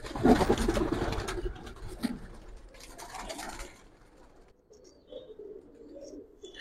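Old-breed Giribaz pigeons in an Old Dhaka loft coo in soft, low rolling calls, with a few louder rustling bursts early on, then quieter scattered coos and chirps toward the end.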